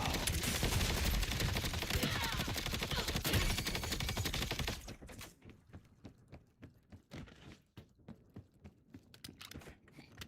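Rapid sustained automatic gunfire into the ground in Black Ops 7, loud and dense for about five seconds, then giving way to scattered sharp shots and clicks at lower level.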